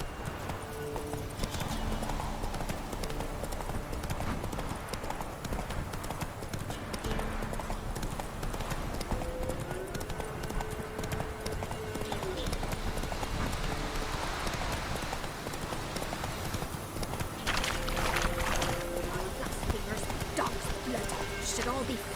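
Roach, a horse in The Witcher 3 video game, gallops with steady rapid hoofbeats running throughout, alongside game music, with someone speaking over it at times.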